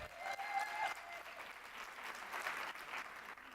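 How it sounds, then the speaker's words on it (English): Conference audience giving a show of applause at APRA Talks 2017, a modest, fairly quiet round of clapping from a room of people, steady for a few seconds before tapering slightly. "Is it Disneyland? Show of applause."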